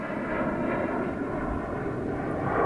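An Airbus A321 airliner at Toronto Pearson airport gives off a steady, fairly loud engine rumble and rush that swells slightly toward the end, heard alone without talk.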